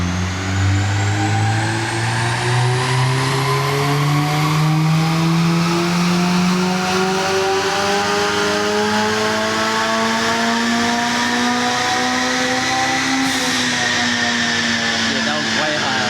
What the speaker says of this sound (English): I think he's opened up the RPMs.